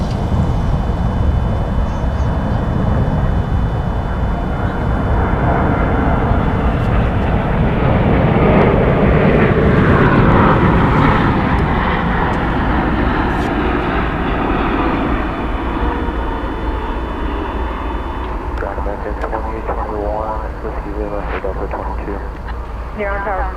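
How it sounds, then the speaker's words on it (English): A Nippon Cargo Boeing 747 cargo jet at Dallas Fort Worth airport makes a loud, sustained engine roar that swells to a peak midway and slowly fades, with voices talking over it. "747 from Anchorage."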